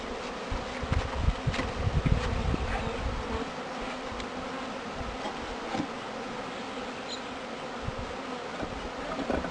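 Honeybees, just moved from a nuc into a hive, fly around it with a soft, steady buzzing hum, quiet and close, with a few louder passes near the microphone.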